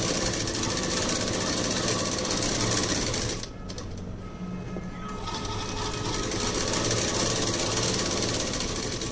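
Sewing machine stitching lining fabric onto main fabric, a loud steady whirring rattle close by that eases for about a second and a half midway before running on continuously.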